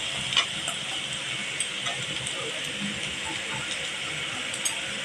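Fried chicken and egg added to a pan with dark soy sauce for a Maggi noodle dish, giving a steady soft sizzle and hiss with a few light stirring scrapes, fairly quiet and close, without talk.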